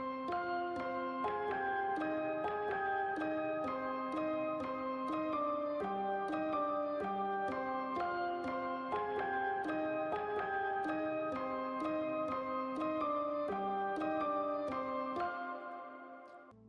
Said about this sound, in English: I just went with like a real simple piano melody